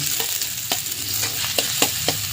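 Ginger and garlic sauté in a hot pan with a steady sizzle, broken by several sharp scraping stirs of a utensil against the pan.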